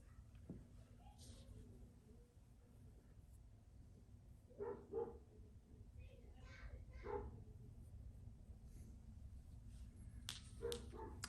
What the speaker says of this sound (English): And my neighbor's dog.